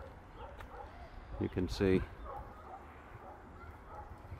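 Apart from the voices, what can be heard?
dogs barking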